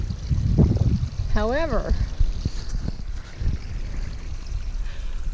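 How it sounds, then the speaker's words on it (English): A creek flowing beside an outdoor work site, a steady close wash of rushing water under a brief spoken word and other faint handling sounds. "I absolutely love the sound of the creek"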